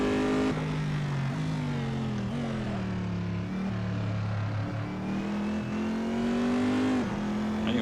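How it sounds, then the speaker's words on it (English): A race car engine in the Assetto Corsa racing video game revs hard, a loud continuous drone that climbs in pitch and drops at several gear shifts. "The engine actually sounds better to what you guys are hearing than what I'm hearing."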